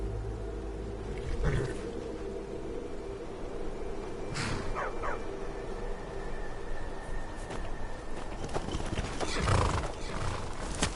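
Horse hooves clip-clop with repeated neighs and whinnies in the Skyrim game, out in the Reach near Markarth, over a steady ambient bed, with no speech.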